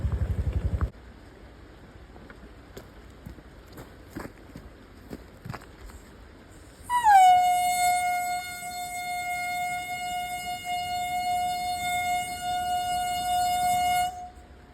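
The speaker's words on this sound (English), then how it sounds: "Now, flaming propane horn." A homemade propane-powered flaming air horn blasts a single loud, sustained, steady tone for about seven seconds after a quiet stretch of faint clicks, then cuts off abruptly.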